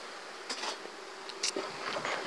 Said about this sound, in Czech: Včely teď zaženeme kuřákem lehkým pokouřením